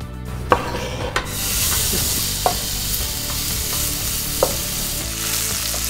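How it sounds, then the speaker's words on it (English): Finely cut pork fat frying in a pan for a Polish pierogi topping, a dense close sizzle that swells after a couple of sharp clacks and continues with occasional utensil taps and stirring, no speech. "the other one we take just the fat, the pork, Yeah. and we cut it very fine, and we just fry it on a pan."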